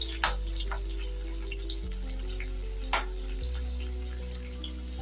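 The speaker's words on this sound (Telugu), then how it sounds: "ఒక స్పూన్ ఆయిల్ వేసి ఇవన్నీ వేయించుకుందాం" Chopped onions frying in a spoonful of oil for a drumstick curry, a steady close sizzle that runs throughout, with a few brief clinks from stirring.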